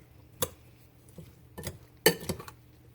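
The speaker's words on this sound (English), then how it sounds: "And we'll continue stirring until it's well mixed." A spoon stirring corn and black bean salsa in a bowl, with a few sharp clinks and scraping knocks of utensil against the dish at irregular moments, close and alone against a quiet background.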